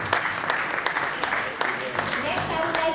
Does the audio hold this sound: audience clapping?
yes